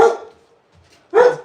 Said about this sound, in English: Just go outside and bark at him out there.